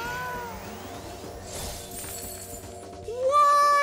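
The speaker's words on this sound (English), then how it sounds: "you stupid cat!" A cat character in the PS2 role-playing game Shadow Hearts 2 lets out a loud, rising meow near the end, following a stretch of game music and battle effects.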